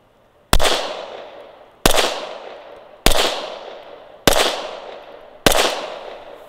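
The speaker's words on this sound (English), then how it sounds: "Okay, 5 rounds, center mass, same point of aim." A Glock 19X pistol fires five loud, sharp shots at an even pace about a second apart. Each crack is followed by a short, ringing decay.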